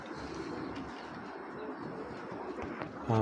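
A large hen pigeon coos at a sales display with an uncommon collection of birds, with low, soft repeated coos under steady background noise and a louder burst at the end.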